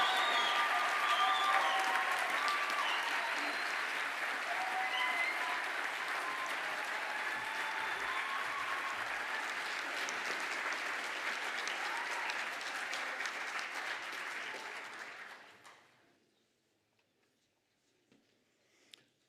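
Graduates applauded at a graduation ceremony: a large audience claps steadily for about fifteen seconds, dense and even, then the applause fades out abruptly into near silence.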